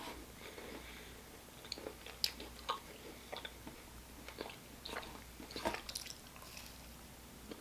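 Someone bites into and chews a premium caramel swirl cookie up close, giving soft irregular crunches and wet squishy mouth sounds at a quiet level, with no talking.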